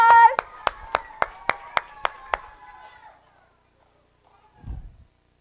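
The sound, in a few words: applause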